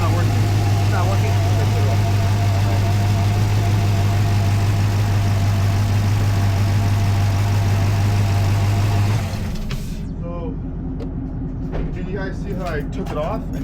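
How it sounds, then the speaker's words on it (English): A 2010 Camaro engine idles steadily with a misfire, a loud low drone running for about nine seconds, then dropping to a quieter, rougher idle with faint clicks and handling noises nearby. "I took it off, and there was no change in the engine idle."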